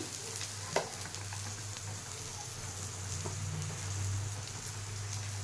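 Dal frying in a pan with salt, a steady close sizzle throughout, with light scraping of stirring and a single sharp knock early on.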